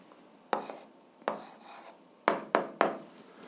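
Pen or chalk strokes writing out the answer to an 8th-grade algebra exercise, five short scratchy bursts spaced unevenly, close and fairly quiet, with no talking.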